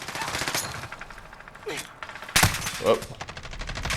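Rifle fire from a G36K assault rifle in Call of Duty Modern Warfare, a dense stream of synthetic gunshots with a sharp louder burst midway, while someone speaks briefly over it.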